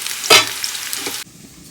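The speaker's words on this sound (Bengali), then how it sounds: "এখানে কচু মুখি ভাজা করে নিচ্ছি" Taro sizzling in a hot pan with a brief stirring scrape, close and loud, then cutting off abruptly.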